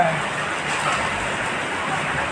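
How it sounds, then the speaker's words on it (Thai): Very heavy rain pours down steadily, a dense, loud, continuous hiss of drops at close range with no break, while someone talks faintly in the background. "เสียงฝนแบบตกโคตรแรงเลยครับทุกคน"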